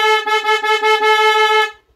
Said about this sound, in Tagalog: Pindutin lang to, loud horn na yan.